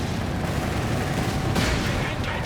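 Mortar fire and gunfire hit units during a Company of Heroes 3 match, a thick, continuous din of crackling shots and booming impacts at constant loudness, without talk.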